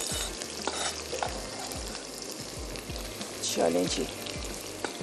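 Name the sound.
onions frying and stirred in pan for mutton rara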